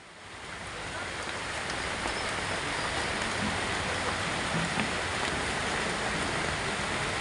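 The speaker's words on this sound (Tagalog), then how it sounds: "Ngayon yung ulan na." Steady rain falls outdoors as a dense, continuous hiss. It swells in over the first second, then holds even and fairly soft.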